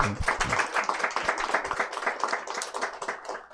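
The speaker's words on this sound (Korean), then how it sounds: "우리 한 번만 더 박수해 줍시다." Steady applause from a church revival meeting audience, dense clapping filling the room for a few seconds with faint voices mixed in.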